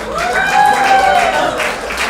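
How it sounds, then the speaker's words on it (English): Audience applause and cheering at an evening Kangen water demonstration as the presenter is welcomed, clapping mixed with crowd voices and a sustained tonal whine running through it. "let's give a big round of applause for my man Omar Ramirez"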